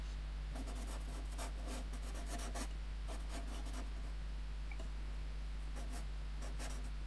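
A Berol ink art marker pen scratches across paper in short, quiet bursts of sketching strokes, soft and close over a steady low hum.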